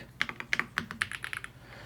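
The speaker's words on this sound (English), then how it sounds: "Right now I'm typing on my iMac." Keys clack on a Redragon K687 Penumbra Pro aluminum mechanical keyboard, a quick irregular run of about a dozen crisp, close taps with no voices.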